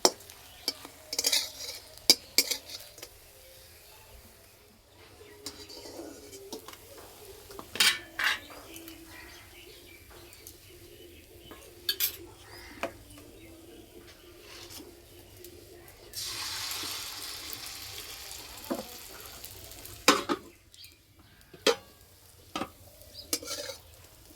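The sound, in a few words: chhana poa pitha frying in pan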